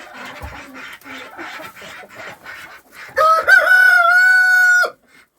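A white rooster crows once, loud and close, a sustained cock-a-doodle-doo of nearly two seconds following a stretch of softer clucking from hens in a winter coop.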